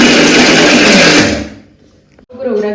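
A kitchen mixer grinder whirs loudly while grinding garlic, dried chillies and cashews into a coarse paste for brinjal gravy. The motor runs steadily for about a second and a half, then winds down and stops, and a voice talks afterward.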